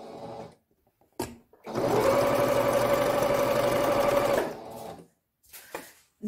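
A sewing machine stitches a fabric face mask in one sustained burst of rapid mechanical whirring and clatter lasting a couple of seconds, close and clear, with quiet handling noises before and after.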